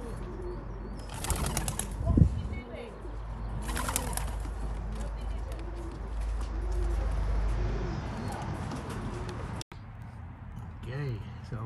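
Young racing pigeons coo steadily around a loft, with two bursts of wing flapping as they come in and a faint voice now and then over a low background rumble.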